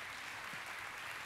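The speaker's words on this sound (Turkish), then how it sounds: "Alkışlarla Çimen Hanım'ı bir adım öne alıyoruz." Studio audience on a Turkish game show applauding, a dense steady burst of clapping filling the whole short moment.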